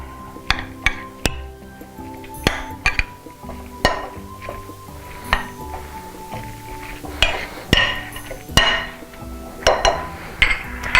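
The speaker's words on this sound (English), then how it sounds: "And a 1/4 cup of milk. And then you're going to stir this." A whisk or spoon clinks repeatedly against a bowl as egg and milk are stirred into pancake batter, sharp irregular taps close by over a faint background hum, with no talking.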